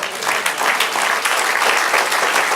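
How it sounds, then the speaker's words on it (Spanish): Congregation applauding at a church service, steady dense clapping from many hands filling the whole stretch, loud and continuous without a break. "Den un aplauso al Señor."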